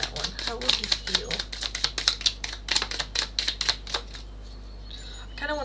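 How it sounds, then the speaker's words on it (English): A deck of tarot cards is riffled in quick bursts, a rapid run of close crisp slaps and flutters that thins out toward the end. "I kind of want another shuffle because I feel like there are a couple more at the bottom."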